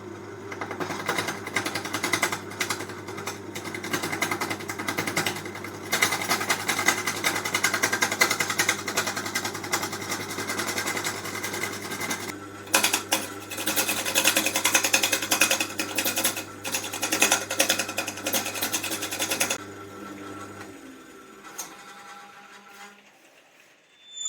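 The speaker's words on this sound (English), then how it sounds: "I'm now going to smooth out the resin down to the wood surface, because at the moment it's a bit raised from the surface of the cylinder" A wood lathe spins a laurel cylinder while a tool smooths raised resin down to the wood surface, producing a steady loud motor drone with a low hum and continuous scraping hiss for about twenty seconds before the machine winds down.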